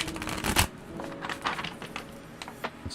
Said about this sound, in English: I'm just going to do one more shuffle and then a cut.